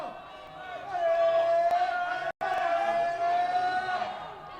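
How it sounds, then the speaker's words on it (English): A crowd at a quidditch semifinal cheers and shouts continuously at a steady, loud level, with a sustained tone running underneath and a brief dropout midway. "Sounds like some of the French people cheering."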